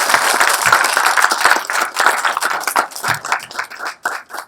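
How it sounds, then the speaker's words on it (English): An audience at a talk on Canadian culture breaks into applause, a dense burst of clapping that thins into scattered individual claps and fades toward the end. "please give a big applause to him"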